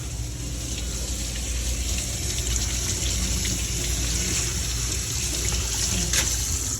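Vegetables are rinsed under a running kitchen tap to wash soil away, a steady close rush and splash of water that continues alone without pause.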